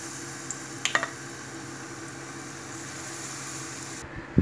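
Steady, soft sizzling of beer-battered green tomatoes frying in oil, with a few brief clinks and taps early on and a thump at the very end.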